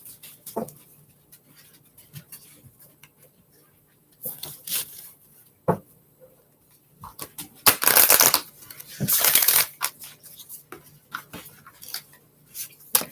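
Cards are shuffled in several quick riffling bursts, close and crisp, separated by quiet pauses with small handling taps.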